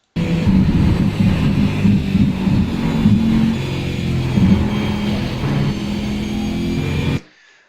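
A race car engine held at light throttle on a track, a steady droning hum with a low harmonic tone that barely changes, loud and continuous for about seven seconds before cutting out abruptly.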